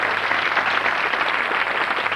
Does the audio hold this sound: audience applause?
yes